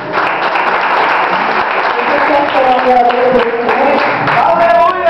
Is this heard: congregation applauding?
yes